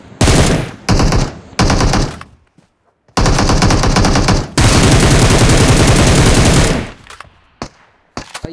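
Bursts of M249 machine gun spray in a video game: three short loud volleys, then two long sustained sprays of rapid automatic fire, with brief pauses and a few faint clicks between.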